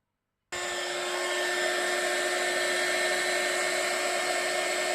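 Heat gun switching on after a short silence and blowing steadily to dry paint or spray on a handmade craft card, a constant airy whine with a sharp tonal hum, moderately close.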